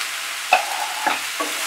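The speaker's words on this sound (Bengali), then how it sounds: "সবজিটাকে কিন্তু আমরা বলছি হাই ফ্লেমে ভাজবো, একটু সময় নিয়ে ভাজতে হবে।" Vegetables for Bengali pui chanchra frying over a high flame in a pan, with a steady close sizzle and a few brief stirring scrapes.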